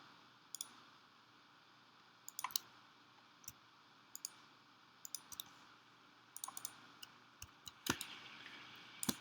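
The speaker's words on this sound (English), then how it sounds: "I'm just holding shift and kind of clicking around" A computer mouse clicks sharply and sparsely, sometimes in quick pairs or small clusters, while Shift is held down, faint and close against a quiet room hum.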